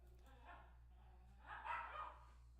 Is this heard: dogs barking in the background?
yes